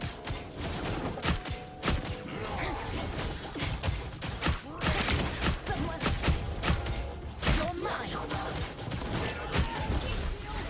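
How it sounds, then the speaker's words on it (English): Weapon fire from the hero shooter Marvel Rivals, a dense run of sharp shots and impacts packed over busy game effects and music, steady and loud throughout with no pause. "Shooting through this guy."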